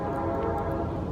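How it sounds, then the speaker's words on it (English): A train passes nearby a woodland bushcraft camp, its steady low rumble and faint horn-like tone filling the air continuously without any talking. "Sorry about the train"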